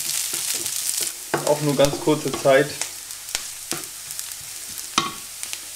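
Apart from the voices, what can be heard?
stirring figs in a frying pan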